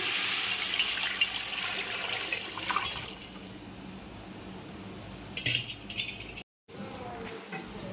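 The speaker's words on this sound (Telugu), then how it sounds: "మనం దీంట్లోకి వాటర్ తీసుకుందామండి" Water pours steadily into a cooking pot of vegetable biryani with a rushing splash, briefly louder near the end, then a short silent gap before a softer trickle resumes.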